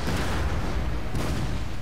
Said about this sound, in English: There's a volley, and let's follow that artillery.